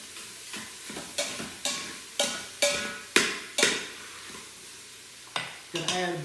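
Sirloin steak, a lean cut, browning in an Instant Pot with butter, heard as a run of sharp scraping stirs and clatters roughly every half second over a steady low sizzle, close and fairly loud, with no talk.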